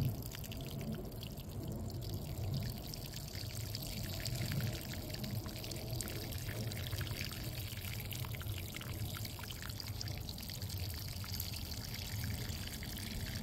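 Collected rainwater being poured to soak the soil around a newly planted silver maple in a back garden, a steady, close pouring and trickling that runs continuously without talk.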